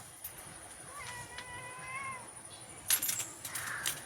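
A cat gives one drawn-out meow at close range, set off by a couple of sharp clicks and followed by a brief rustle, with no talk.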